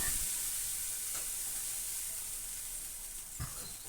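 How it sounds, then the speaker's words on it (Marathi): Spices sizzle and crackle steadily in hot oil as a tempering for dal, a loud continuous hiss close by with a few brief clatters. "ती मी फोडणी घालून घेते इथं वरण बनवते"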